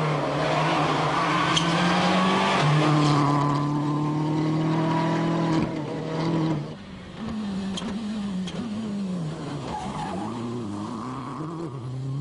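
Rally cars race on a special stage, a loud engine holding high revs and shifting up, then a second car passing with wavering engine pitch and faint tire noise.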